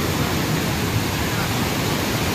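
Rabandhara waterfall near Bhawanipatna, by the Maa Manikeswari temple, roars as a steady, dense rush of falling water that fills the whole clip without pause.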